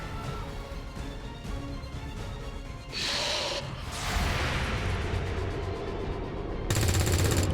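Bursts of gunfire in the video game XCOM 2, rattling machine-gun-like volleys and shots that grow louder in stages over a steady game background.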